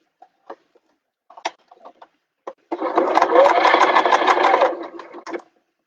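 A sewing machine stitches fabric for a machine-sewn bag, running in one continuous rattling burst of about two seconds, preceded by scattered small clicks and taps of handling.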